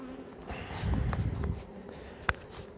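Honey bees hum in a low, steady drone around an open hive during an inspection, close and fairly faint, with a few soft knocks and handling noises.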